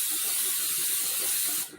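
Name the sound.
olive oil cooking spray sprayed into pot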